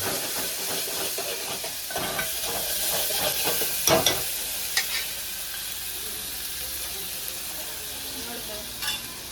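Mustard seeds, cumin, asafoetida and tomato fry in a hot pan with a loud, even sizzle. A cluster of utensil clatters and stirring comes early, then the hiss carries on steadily.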